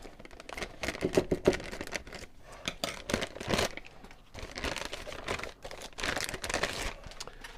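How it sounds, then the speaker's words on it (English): Packaging for an Arlo Pro base station is cut and opened with scissors: irregular crinkling, snipping and rustling, close and fairly quiet, with no talking. "I'm going to have to get the scissors out to open this up."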